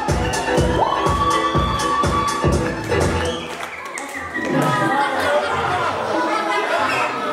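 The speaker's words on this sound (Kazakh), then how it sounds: "Келге бір қол шапалақ ұрайық қанеге." A wedding crowd claps in a steady rhythmic beat over a held musical tone, then breaks into scattered applause, cheers and lively chatter, loud and close throughout.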